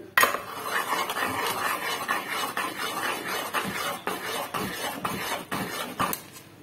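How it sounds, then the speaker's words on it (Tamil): Flour being stirred by hand into boiling jaggery syrup for Tamil adhirasam dough, a steady close scraping and rubbing of a spoon against a metal pot with sharp clinks, continuous throughout with no talk. "மாவு போட்டு கொஞ்சம் கொஞ்சமாக போட்டுட்டு கிண்டுறேன் பாட்டி"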